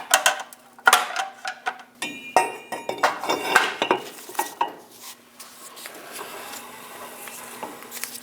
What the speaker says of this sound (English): You can hear that scrape inside of the rotor right here.